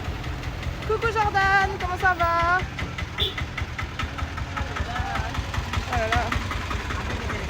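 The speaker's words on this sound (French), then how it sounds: "il y a le gros tracteur là" Large tractor engine idling with a low, steady rumble on a street in Mirissa, Sri Lanka, constant and fairly loud under nearby French conversation and passing voices.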